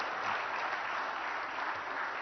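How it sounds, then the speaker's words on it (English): Applause for award winners at an innovation summit and awards ceremony, a steady, fairly distant wash of many hands clapping with no voices over it. "One loud round of applause for all of our winners of the day."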